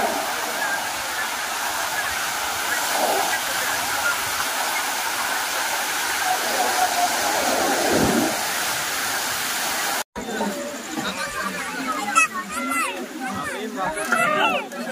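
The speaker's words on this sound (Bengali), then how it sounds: "আর সমুদ্রে যে ঢেউয়ের আওয়াজটা না কি ভালো লাগছে" Sea waves wash in a steady broad roar, surging and receding, with voices talking over the surf partway through.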